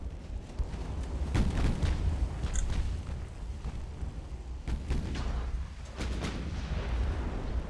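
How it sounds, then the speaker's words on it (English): Deep booms of ammunition detonating aboard warships in the naval battle game Ultimate Admiral: Dreadnoughts roll out over a constant rumble of battle noise, with a few heavier blasts standing out. "There we go. 2 ammo detonations."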